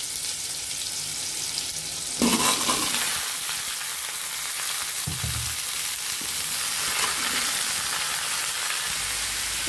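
Raw mango pieces drop into hot oil with fried panch phoron spices, setting off a loud, continuous sizzle close at hand, broken by occasional scrapes and stirs of the spoon in the pan.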